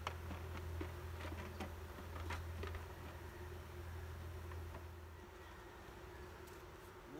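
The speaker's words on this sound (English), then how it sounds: "Loaded with bees." Honeybees buzz in an open hive during an inspection and split, a faint, steady drone with a low hum running throughout.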